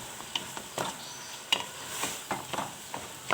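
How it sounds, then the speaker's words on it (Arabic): Paella ingredients being stirred with fish spices in a pan, heard as a soft, steady sizzle broken by irregular scraping strokes and light clacks of a utensil against metal. "غادي نحاول نخلط مزيان باش كلشي يتلبس هذيك العطريه"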